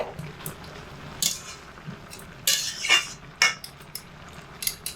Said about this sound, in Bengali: ঢাকাটা তুলে বাঁধাকপি একবার নেড়ে চেড়ে দেব